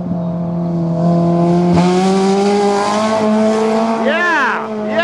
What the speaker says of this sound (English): Oh, that's hitting the revs.